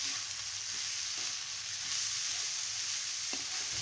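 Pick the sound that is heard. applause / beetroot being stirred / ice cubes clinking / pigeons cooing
beetroot being stirred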